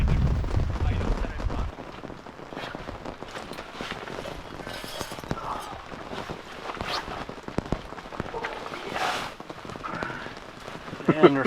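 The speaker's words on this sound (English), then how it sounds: "I don't think I had rain like that all summer." Heavy rain drums on a hot tent at a backcountry deer hunting camp, a dense steady patter with sharper irregular drops, close and loud throughout, with some speech mixed in.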